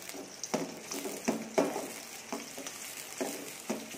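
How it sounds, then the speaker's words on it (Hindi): Onions fry in ghee for beef karahi, a soft steady sizzle broken by a few stirring scrapes, close and fairly quiet with no talking. "तो हमने अपने घी में प्याज डाल लिए।"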